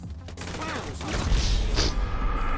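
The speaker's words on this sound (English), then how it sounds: "I got knocked over by an explosion." An explosion in the video game GTA 5 bursts with crashing, booming impacts and debris rattle that swell louder toward the end, dense and close.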